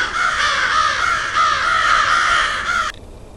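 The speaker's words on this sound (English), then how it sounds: "Well, the whole forest knows I'm here now. Thanks a lot, crows." Loud, close crows cawing in a continuous harsh chorus that cuts off abruptly near the end.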